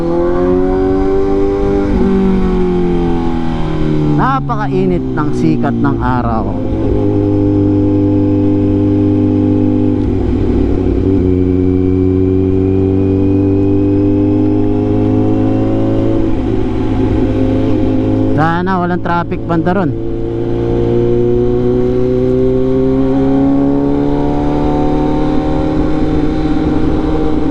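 A go-kart engine runs loud and continuously at close range at a farm in Naic, Cavite, its steady drone rising and falling in pitch, while a person talks over it now and then.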